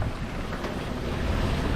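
Strong wind buffets the microphone aboard a sailboat on an Atlantic crossing near the Azores, a steady loud rush of air and sea noise with no break.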